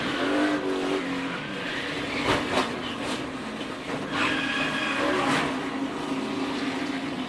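NASCAR stock car spinning out at Daytona in 2015: a continuous roar of engines with screeching tires and skidding, loud and steady throughout, with other cars passing, and no talking.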